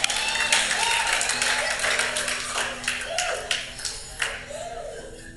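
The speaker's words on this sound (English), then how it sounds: "Clap for yourself." An audience at a Bible teaching session at an academy claps, producing a dense, fairly loud burst of applause that gradually thins into scattered individual claps.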